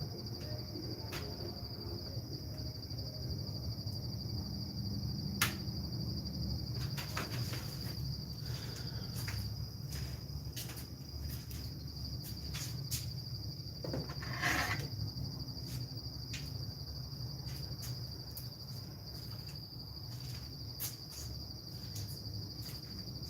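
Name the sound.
many insects at night, attracted to the light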